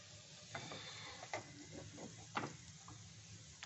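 Semolina frying in ghee, a soft sizzle broken by several scraping stirs of a spoon through the pan, fairly quiet and close.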